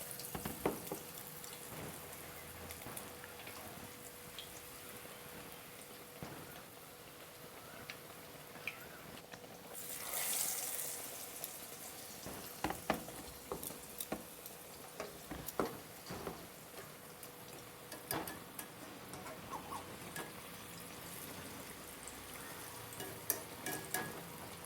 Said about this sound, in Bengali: এইভাবে বন্ধুরা বেগুনটাকে বেসনের মধ্যে দিয়ে দিয়ে তেলের মধ্যে ছাড়বেন।